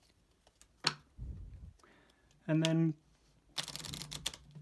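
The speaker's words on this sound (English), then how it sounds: "And I'll shuffle those." A deck of cards for the Heroes of Tenefyr board game being shuffled, with a couple of short papery riffling bursts and softer handling noises, close by, and a person speaking briefly.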